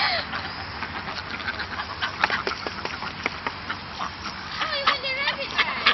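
Chickens chasing people in Malaysia, a busy run of squawks and clucks close by, mixed with excited voices and running through the whole scene.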